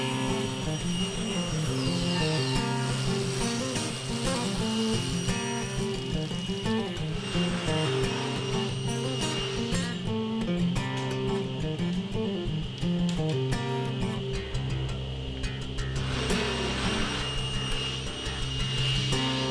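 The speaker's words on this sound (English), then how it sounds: "On that last piece of molding, you might have noticed I pushed the molding halfway through the saw" A table saw cuts through wooden shoe molding with a loud, steady whine and grinding roar that runs unbroken through the whole stretch, close up and with no talking.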